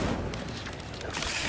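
Incendio fire spells cast in Hogwarts Legacy on a hard difficulty setting, heard as a dense run of booming, crackling bursts that fill the whole short stretch at steady loudness.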